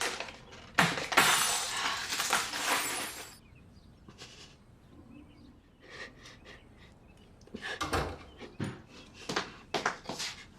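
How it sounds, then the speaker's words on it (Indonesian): Glass shatters in a long bright crash, followed by scattered clinks and tinkling shards, then more sharp clattering bursts; no talking. "Dan saat itu Ariela memecahkan gelas lalu melukai tangannya."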